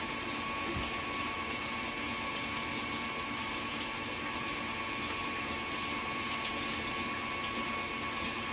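Tap water runs steadily as hands are washed at a kitchen sink during baking, a constant hiss and splash with a faint mechanical whine beneath, close and even throughout, no talking.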